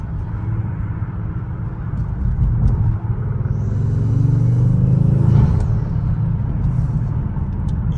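A Kia Stinger GT drives through city traffic, heard from inside as a steady low engine rumble and road noise that swells briefly with acceleration midway before settling back to a constant drone.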